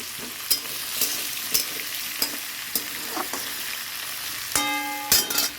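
Spices stirred into food frying in a pan alongside fried potato and aubergine, a steady sizzle broken by sharp clinks and scrapes of a utensil against the pan, with a brief ringing metallic tap near the end.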